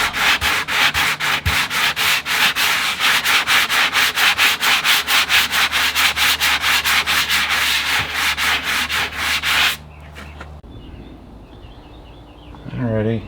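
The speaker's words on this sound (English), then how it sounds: "So I'm sanding down the second coat." Hand sanding of RV fiberglass with 120-grit sandpaper, loud rhythmic rasping back-and-forth strokes that repeat steadily, then stop abruptly, leaving faint background noise and a brief rustle.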